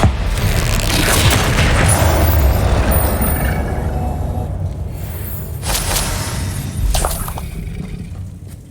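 Bombarda explosion spell in Hogwarts Legacy bursting with a heavy booming blast and crackling debris, followed by a second sharp burst and a fading rumble.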